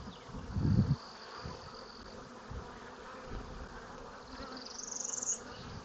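Honey bees buzzing on a hive frame of old comb, a faint, continuous hum of many insects close by, with a soft thump at the start and a brief higher whine near the end.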